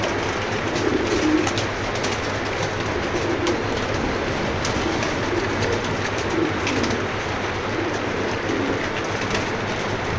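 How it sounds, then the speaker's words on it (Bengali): Female racing pigeons in a loft coo in a low, continuous murmur under a steady background hum, with no one speaking. "এগুলো সব মাদি কবুতর।"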